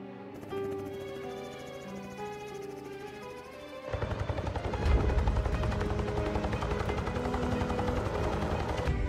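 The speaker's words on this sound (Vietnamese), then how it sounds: "thợ săn có thể sử dụng trực thăng Robinson T-66, loại trực thăng hạng nhẹ" A Robinson R66 light helicopter, used for hunting wild hogs in Canada. A tonal musical opening gives way at about four seconds to a loud, steady, pulsing rotor chop that continues to the end.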